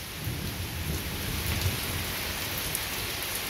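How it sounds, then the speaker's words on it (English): Thunder rumbles beneath steady, dense rain falling on a porch after a summer storm, a continuous loud wash of rainfall with low booming swells rolling underneath throughout. "Hear the thunder?"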